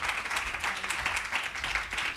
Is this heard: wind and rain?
no